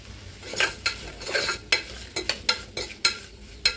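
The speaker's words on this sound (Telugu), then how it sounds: "ఈ కూరగాయ ముక్కలన్నింటినీ ఒక 5 నిమిషాలు అయితే సిమ్లో వేపుకుందాం" Vegetable pieces for pulao fry on a low flame in a pressure cooker, a soft sizzle under repeated scraping strokes of a spoon stirring against the metal, close by.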